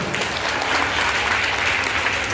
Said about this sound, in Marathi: त्याच हाताने तुमच्यासाठी जोरदार टाळी झाली पाहिजे